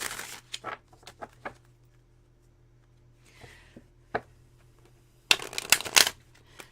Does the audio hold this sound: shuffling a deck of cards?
yes